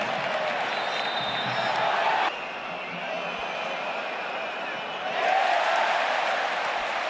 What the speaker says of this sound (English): Another huge cheer as Gerard Martin went to 0-0.